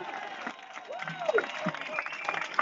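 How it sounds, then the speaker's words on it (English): An outdoor audience at a civil rights street rally applauds and cheers a speaker named Katie, scattered clapping with crowd noise and a few whistles and calls, moderately distant, with some talk in the background. "A big cheer for Katie, everyone."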